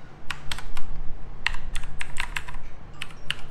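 Crisp, clicky keystrokes on a Gameone mechanical keyboard, a quick irregular burst of close taps and key clacks with no voices.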